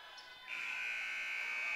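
A loud electronic buzzer sounds at the end of the first half of a high school basketball game, starting abruptly and holding a steady harsh tone through the rest of the clip after a quieter moment of gym noise.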